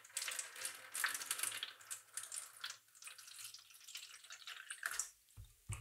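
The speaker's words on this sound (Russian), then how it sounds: "И теперь мы будем набирать воду в дренажный приямок." Water pours and splashes into a drainage pit, a continuous hissing, trickling flow close by that thins out and pauses briefly near the end.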